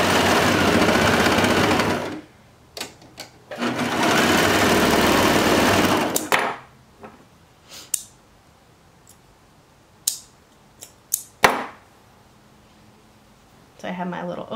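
Sewing machine stitching boy shorts: two loud, close runs of rapid, steady stitching, then quieter handling clicks and fabric sounds with brief taps, and another short run of stitching at the end.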